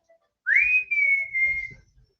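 One person whistles a single sustained, slightly rising then level note to call a cat, close and clear over faint background rumble, lasting a little over a second before trailing off.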